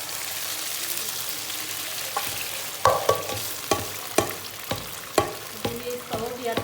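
Whole spices sizzle steadily in hot oil for a tempering on khichdi, while a spoon scrapes and taps the pan in a regular rhythm.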